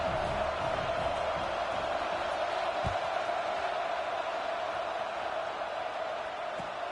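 A football stadium crowd at a UCLA vs Tennessee game makes a steady, distant broadband roar and murmur that holds evenly throughout, with no distinct cheers or peaks standing out.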